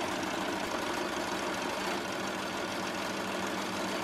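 An embroidery machine stitches a tack-down line on onesie fabric, a loud steady mechanical hum with rapid, even needle chatter throughout and no voices.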